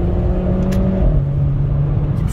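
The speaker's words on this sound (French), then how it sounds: "ce qui me gêne, c'est ce petit son qui vient du moteur" A car engine holds a steady, loud drone, its pitch stepping down partway through, close and continuous with no talk.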